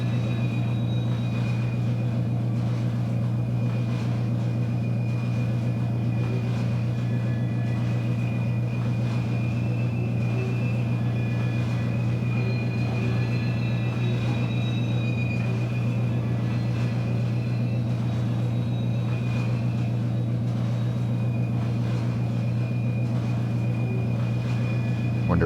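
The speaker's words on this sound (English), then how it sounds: "Wonder if we can make it to Allegheny with this train" A train running in a Pennsylvania & Berwind railroad simulation game gives a continuous low engine rumble and steady drone throughout, with faint higher tonal whine riding on top and no speech.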